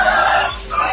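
KUB chickens in a pen cluck loudly and close by, a short dense burst of overlapping calls after being fed.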